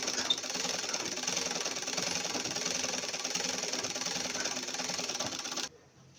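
A sewing machine runs a double line of stitching on churidar pants, a steady fast mechanical whir with rapid needle clatter that holds for several seconds and then stops abruptly.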